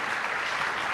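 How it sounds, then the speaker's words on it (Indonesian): Dense, even applause from an audience honoring the first three speakers at a discussion event with Muslim writers, a brief close wash of many hands clapping together without pause. "Tepuk tangan untuk 3 narasumber pertama."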